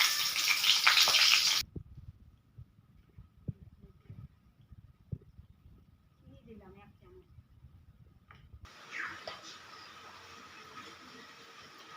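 Dried red chillies hit hot oil left from frying hilsa fish in a wok with five-spice. A loud, bright sizzle plays at first, drops to near quiet with small clicks, then swells back into a steady hiss.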